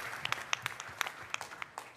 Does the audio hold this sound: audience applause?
yes